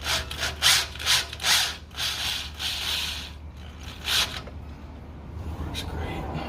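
Self-tapping drill-point screws being driven into a trailer plug mount on a Toyota FJ Cruiser, a few short bursts of close, buzzing driver whir with brief pauses between, then quieter handling noise.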